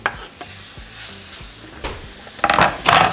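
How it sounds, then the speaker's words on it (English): Meat sizzles in a hot skillet for pink tacos, a steady frying hiss broken by stirring scrapes and a couple of louder spatters near the end. "Once hot, we're going to throw in our meat."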